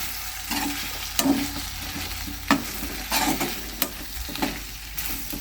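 Chili powder and masala sizzling in a pan on low heat, a close crackling fry broken by repeated sharp scraping stirs, no talking.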